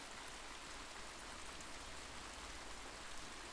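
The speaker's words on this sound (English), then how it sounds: "He simply stood and watched the rain as it battered down on the ground." Steady heavy rain pours down onto the ground, a dense continuous hiss of drops with no gaps, fairly faint and even throughout, with no voices.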